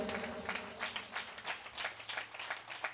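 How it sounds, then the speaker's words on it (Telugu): A church congregation claps together in praise of God, a dense, steady patter of many hands heard from within the hall, moderately loud and unbroken for a few seconds. "చప్పట్లు కొట్టి దేవుణ్ణి స్తుతిద్దామా"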